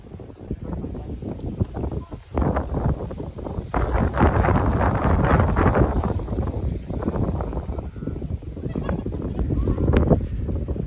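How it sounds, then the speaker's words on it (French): Strong wind on a scenic road to Kampot, Cambodia, roaring across the microphone as a loud, continuous buffeting rumble that swells in gusts for the whole stretch. "La vue elle est incroyable, mais il y a énormément de vent."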